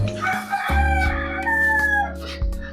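Rooster crowing loudly and close in a small backyard poultry coop, one long drawn-out crow over a steady low hum, with chickens clucking alongside.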